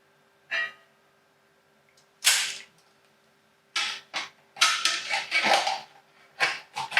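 A cooked Dungeness crab goes into an ice bath, and several separate bursts of clattering ice and splashing water come close and fairly loud, with quiet gaps between them.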